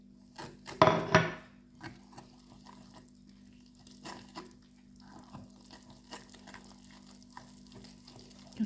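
Flour and salt being stirred into dough in a bowl: a loud utensil scrape against the bowl near the start, then softer irregular scraping and tapping strokes over a low hum.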